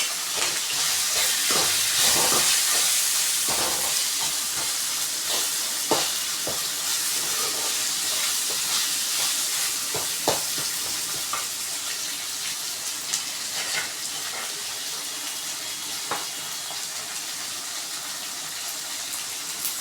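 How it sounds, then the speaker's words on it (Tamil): Tomatoes sautéing in a pan with paste for chana butter masala, a steady close sizzle and hiss with scattered crackles and stirring scrapes throughout, no voices. "இப்போ நல்லா வதக்கிக்கலாம்."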